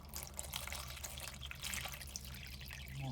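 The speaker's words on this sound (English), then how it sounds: "You're just gonna take one of the jugs and" Water poured from a jug into a pet's water bowl, a steady close trickling splash running throughout without pause.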